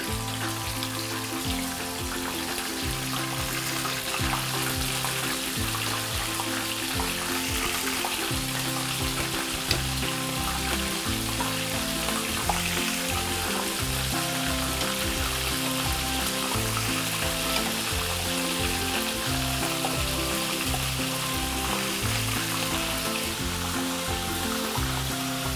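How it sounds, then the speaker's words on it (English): Scallops sizzle loudly and continuously in a hot pan, a steady crackling sear with no talking. "We don't want to overcook, we just want to quick sear. Hear that sizzle?"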